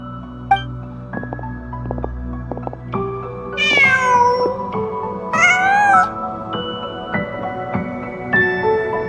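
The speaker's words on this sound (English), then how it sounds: "Just a cat." A cat meows several times in the Genshin Impact video game, rising, drawn-out calls heard over a soft layered game soundtrack with steady tones and background ambience.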